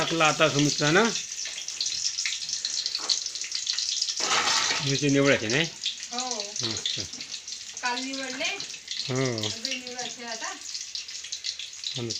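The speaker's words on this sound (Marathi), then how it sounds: "आता फोडणी देते" Sizzling of a tempering (phodni) being made for khadi dal, a steady bright crackle running loud throughout, with someone talking over it for most of the clip.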